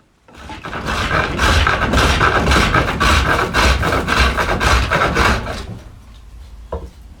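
A wooden stile for a joined stool spinning on a lathe as a chisel cuts it toward a cylinder: a loud, continuous rasping shave with a pulsing scrape, stopping near the end followed by a brief knock.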